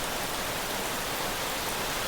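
Heavy rain pours down as a dense, steady hiss, loud and unbroken, with no other sounds.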